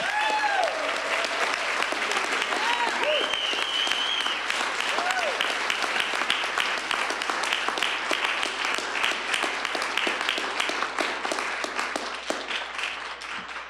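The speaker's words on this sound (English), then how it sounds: "Let's give all of our students a big round of applause" A large crowd claps steadily and loudly at a school board meeting honoring students, sustained applause with a few scattered cheers and whoops rising near the start.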